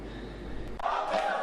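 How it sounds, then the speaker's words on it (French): Women cheering and acclaiming at a festive welcome in Limete, a dense crowd roar that swells loudly after a brief dip partway through. "C'est sous des acclamations frénétiques et dans une ambiance festive"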